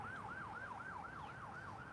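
An ambulance siren wails in a steady rising and falling pattern, far off and faint beneath street traffic rumble in a busy Thai neighborhood near a railway and morning market.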